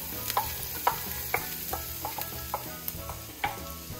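Carrots tossed into a pan with already-cooked onion, sizzling steadily while a utensil scrapes and stirs in repeated sharp clicks and taps over about four seconds.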